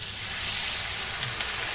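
Snake gourd (chichinga) frying in a pan just as water is poured in, giving a steady, close, bright sizzling hiss that holds evenly throughout with no talk.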